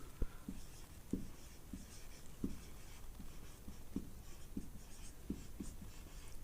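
Chalk or pen writing on a board, a string of short scratchy taps and strokes in an irregular rhythm, close and fairly quiet over a steady background hiss, with no talking.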